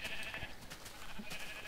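Minecraft sheep bleat in a game, several short nasal bleats repeating over a couple of seconds at moderate level, with no talk.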